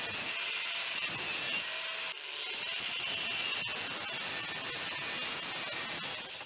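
A metal bolt is cut through during a homemade DIY build, producing a loud, continuous harsh cutting noise with a brief break near two seconds and no talking.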